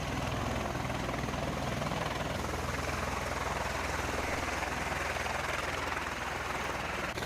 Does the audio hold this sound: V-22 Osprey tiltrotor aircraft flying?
yes